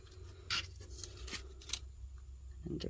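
A piece of craft vinyl being cut into triangles for decorating diamond and envelope style tumblers, giving a few sharp, crisp close-up snips and scraping cuts spaced irregularly over a low steady background hum, with no talking.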